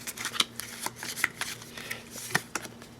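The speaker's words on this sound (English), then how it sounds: "we'll grab the scavenge deck and give it a quick shuffle" A deck of cards for a tabletop board game gets a quick shuffle, with a series of crisp riffling snaps and soft card slaps, close up and without talk.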